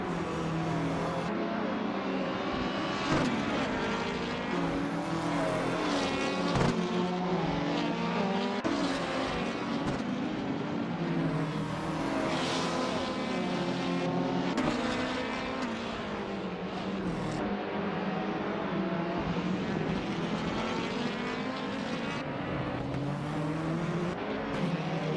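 Race cars in a racing video game roaring continuously, engines whining and shifting pitch as they rev and pass, loud and sustained with occasional tire squeals.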